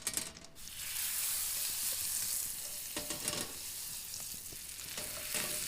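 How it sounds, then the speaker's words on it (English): Reindeer moss crisps in brown butter over a fire, a steady close sizzle and frying hiss that runs through the whole stretch with soft stirring clicks and no voices. "I want to crisp up some of this reindeer moss in the brown butter."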